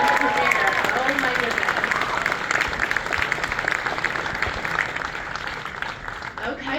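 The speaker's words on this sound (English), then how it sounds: "Can we get another round of applause for that epic season premiere?" Sustained audience applause and cheering at a Halo fan screening after the season premiere, a dense steady wash of clapping with a voice talking over it near the end.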